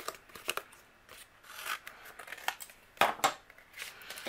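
Scissors snipping away overhanging card stock on a handmade Easter card, a run of close, crisp cuts with sharper, louder snips near the end, no talking.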